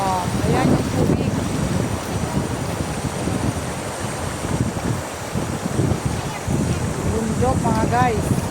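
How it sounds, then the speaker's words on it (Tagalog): Strong wind buffets the microphone in a steady, roaring rush, with a person talking over it and water faintly audible beneath. "Oh, ay, lakas ng hangin mga guys."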